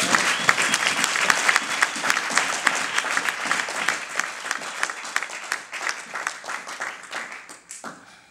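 A church congregation applauds loudly during a sermon, a dense, continuous wave of many hands clapping that gradually tapers off toward the end.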